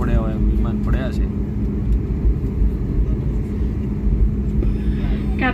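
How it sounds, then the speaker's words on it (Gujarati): Airliner taking off from Sardar Vallabhbhai Patel International Airport Terminal 2, bound for Mumbai: a steady, loud engine roar and rumble from inside the cabin, continuous throughout, with faint voices in the background. "હવે આપણું વિમાન ટેક ઓફ થઈ રહ્યું છે મુંબઈ જવા માટે"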